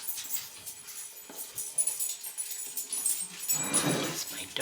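Dog whimpering and yipping softly nearby in a kitchen where beef tongue is being cut, faint high whines scattered over several seconds, then a louder snuffling rustle.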